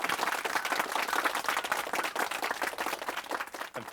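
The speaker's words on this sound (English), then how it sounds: "Please give Dr. Victor a warm welcome applause." An audience at a medical talk applauds to welcome a speaker, dense steady clapping from many hands that fills the room and tapers slightly at the end.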